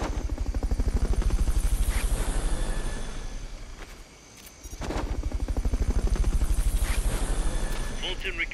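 A rotor-driven helicopter in the video game Metal Gear Solid: Peace Walker thumps close and loud in a fast, steady chop, briefly dipping in level midway before the beating rotor surges back, with a voice talking over it.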